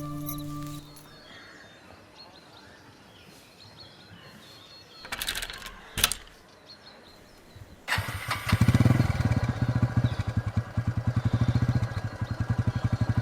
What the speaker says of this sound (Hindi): ये तो भैया की बाइक है ना?